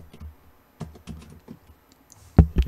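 Scattered keystrokes typing an SQL statement on a computer keyboard, soft close clicks in short bursts with gaps, ending with a couple of louder, sharper taps.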